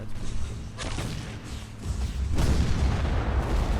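Cannon fire in a Civil War video game with destructible environments, heavy booming and rumbling blasts layered over continuous crashing debris, loud and dense with no clear gaps.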